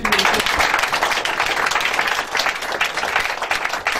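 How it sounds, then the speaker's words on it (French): A church congregation applauds and cheers for Jesus during a deliverance service. The clapping is dense, sustained and loud from a crowd, and a few voices are heard faintly underneath. "Est-ce qu'on peut acclamer Jésus"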